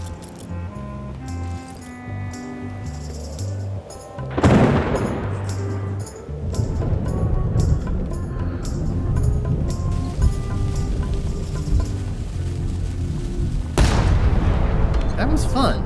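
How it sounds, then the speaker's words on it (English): An unloaded ship's cannon fires in a video game, with two heavy booms trailed by rumbling noise, the first about a third of the way in and the second near the end, over game music and background sound. "That was fun, but it would be even better if the cannon's loaded with something."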